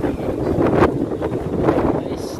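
Strong hurricane wind from Hurricane Fiona in Bermuda at night buffets and rumbles in gusts, roughly rising and falling, loud against the microphone.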